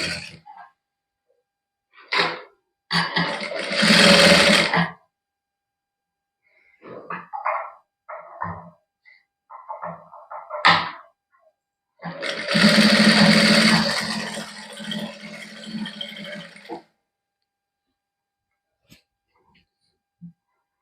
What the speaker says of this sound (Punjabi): ਇਹਨੂੰ ਇਸ ਤਰ੍ਹਾਂ ਖਿੱਚਣਾ ਨਹੀਂ ਹੈ ਆਸਤੇ ਆਸਤੇ ਸਲਾਈ ਲਾਉਣੀ ਹੈ